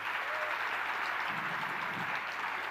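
A crowd claps at an outdoor welcome rally for a victory chariot in Kota, steady, fairly faint and distant clapping that continues evenly throughout, with no speech over it.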